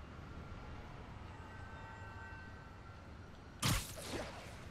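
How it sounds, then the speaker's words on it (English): A train in Marvel's Spider-Man: Miles Morales is pulled along rail tracks by webs, a low steady rumble of rolling cars under a faint whine, then a sudden sharp whoosh and clank near the end. "Spin the turntable, pull trains with webs."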